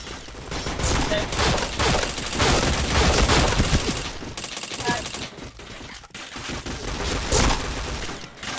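Rapid video game gunfire in a shooter, dense fusillades of shots rattling on and off, fairly loud with short pauses between bursts.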